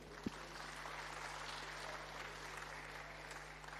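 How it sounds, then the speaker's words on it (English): An audience applauds a closing speaker at a ceremony, a faint, distant wash of steady clapping over a constant low hum, with one brief sharp knock near the start. "A round of applause, ladies and gentlemen."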